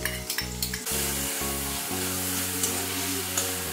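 Kashmiri chili, turmeric and cumin paste hits hot oil while Hilsa curry is being cooked, giving a steady close sizzle with low pan hum and a few brief clatters early on.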